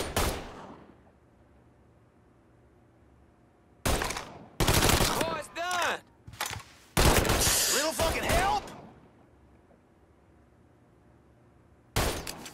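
Gunfire in the video game Mafia III, with sharp loud bursts of rapid shots in clustered volleys separated by near silence, ending with one more short burst.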